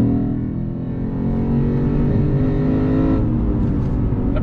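The V8 of a 2021 Lexus RC F Fuji Speedway Edition roars on track, a loud, steady, harmonic engine drone that holds then climbs slightly in pitch near the end, with no talk over it.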